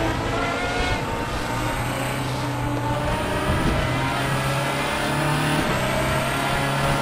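An Audi R18 Ultra race car in the RaceRoom racing game accelerates hard out of a corner, its engine a loud, steady, rising drone with no talk over it.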